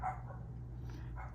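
A dog barks briefly and fairly faintly in the background, a couple of muffled yaps over a steady low hum.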